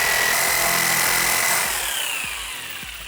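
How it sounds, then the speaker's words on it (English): A handheld jigsaw cuts through a wooden storage shelf upright, a steady high-pitched buzzing saw tone that slowly drops in pitch and fades toward the end as the cut finishes, heard alone. "So I'm just gonna cut those out with my handy jigsaw"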